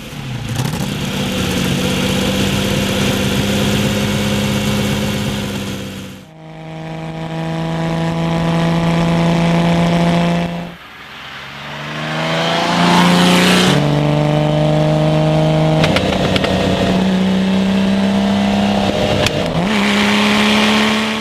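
Lamborghini Miura V12 engine running loud and close, revving up in several rising sweeps to around 6,000 rpm with brief dips back toward idle between pulls.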